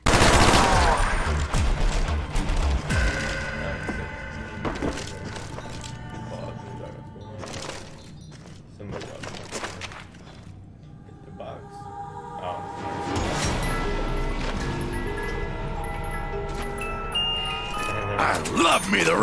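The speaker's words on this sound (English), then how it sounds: "Love me the ray gun!" Rapid bursts of ray gun fire in a shooter video game, crackling volleys that come in loud clusters at the start and end with a quieter stretch between, mixed with game music and effects.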